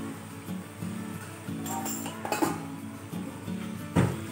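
A spoon stirs a carrot, pea and potato sabzi in a pan after garam masala is added. It makes close, intermittent scrapes and metallic clinks, with one sharper knock near the end.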